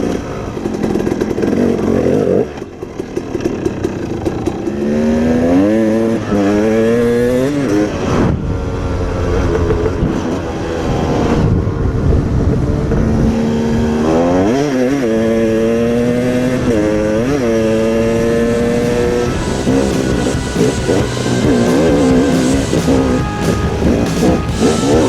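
Suzuki DRZ 400 and other enduro dirt bikes ride close by, with loud engines revving and shifting pitch throughout, rising and falling in long sweeps with no talk.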